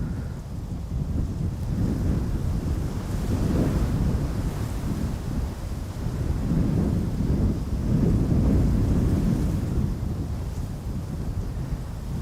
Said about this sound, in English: The wind is absolutely picking up.